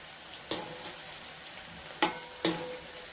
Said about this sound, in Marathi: आणि तिखट टाकल्यानंतर छान असं परतून घ्यायचं आहे।